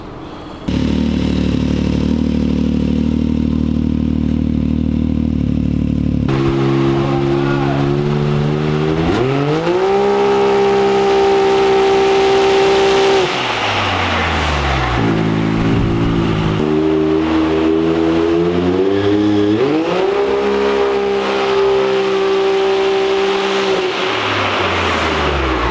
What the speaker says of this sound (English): we're gonna do some rips. See how much this exhaust helps.